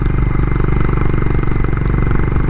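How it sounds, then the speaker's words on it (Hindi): A Honda Highness motorcycle strains uphill at high altitude in the Spiti Valley, its engine producing a loud, close, steady low thump with a constant labored drone throughout. "मगर यहाँ पे जो बाइक है ना, सेकंड गियर से ऊपर नहीं चल पा रही है, थर्ड गियर पे तो बहुत ज़्यादा आवाज़ कर रही है।"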